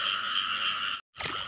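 Frogs call loudly and continuously in a flooded rice field, a dense, close, ringing chorus that cuts out abruptly for a moment before resuming.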